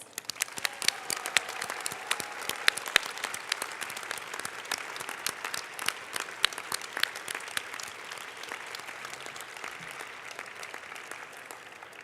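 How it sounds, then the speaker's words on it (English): A standing audience at a conference closing ceremony gives a huge round of applause, dense continuous clapping with sharp individual claps throughout, sustained and even for the whole stretch. "let's give them a huge round of applause"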